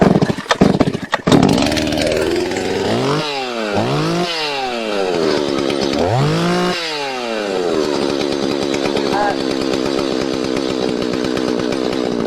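A chainsaw runs after its seized clutch drum is repaired. A few pull-start tugs lead into a loud, close engine that revs up and down in several swooping surges, then settles into a steady high idle drone with no talking.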